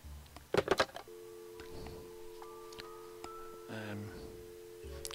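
A telephone in the Nancy Drew game The White Wolf of Icicle Creek dials, first with a quick clatter and then steady keypad tones, fairly quiet against a soft background hum.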